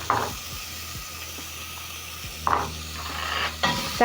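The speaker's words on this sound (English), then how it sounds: "I'm going to be adding in some cooking oil, and then I'm going to add in onions." Onions added to hot cooking oil for Kenyan kunde give a steady close sizzle, with a few brief stirring and utensil clatters against the pot.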